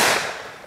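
Gunshot from a 100-year-old World War I gun fired outdoors: a single loud, broadband blast already at full strength, decaying over a fraction of a second with no talk.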